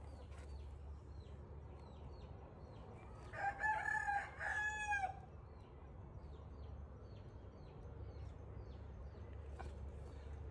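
A native rooster crows once, fairly far off, over a steady low rural background hum in a mountain village in the Philippines, with faint scattered bird chirps around it.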